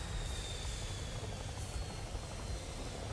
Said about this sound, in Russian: Вертолет, слышите?